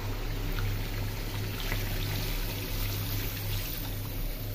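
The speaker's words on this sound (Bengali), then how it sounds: "একটু ঝোলের পানি দিয়ে দিই" Water poured into a simmering egg curry to thin the gravy gives a steady, close liquid pour under a constant low kitchen hum, with no talking.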